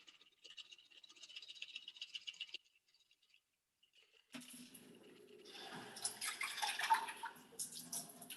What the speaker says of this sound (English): So I'll pour over my julep